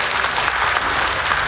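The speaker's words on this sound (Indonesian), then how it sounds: "boleh tepuk tangan untuk tim panelis" An audience at a Papua gubernatorial election public debate gives the panel team a brief, dense burst of applause, loud and steady throughout.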